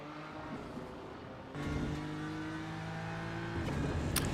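A BMW race car at Road America during an endurance race, its engine droning steadily as it passes, the pitch rising with a surge in loudness partway through, against general track noise.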